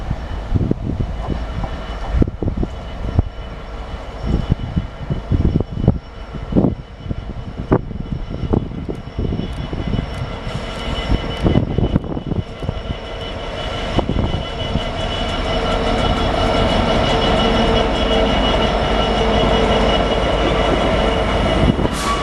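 A train pulls into Wellingborough station, with rhythmic wheel clatter and rumble building up close, then settling into a loud sustained engine drone.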